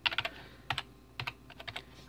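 Keys on a computer keyboard clack in quick bursts of several strokes separated by short pauses while a username is typed, close and crisp with no talking.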